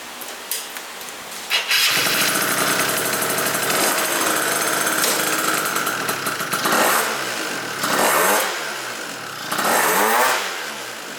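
A Malaguti Phantom F12 two-stroke scooter with a Stage6 MK2 kit and a freshly tuned carburetor kicks into life and runs with a loud, raspy buzz, then revs up sharply several times, close by with no talk.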